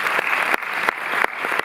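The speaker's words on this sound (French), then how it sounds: "Chère Juliette, vous pouvez l'applaudir." A theatre audience at the Cinémathèque in Paris applauds a guest called to the stage before a film presentation. The clapping is full and lively, with a few sharper claps standing out.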